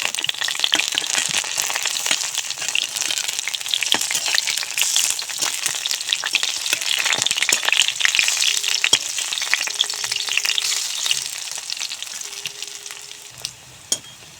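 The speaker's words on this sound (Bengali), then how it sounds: "বাকি বড়াগুলোও এভাবে ভেজে নেব" Spinach fritters fry in hot oil in a wok with a dense, close, steady crackling sizzle that holds for a long stretch and then tapers off near the end, with no talking.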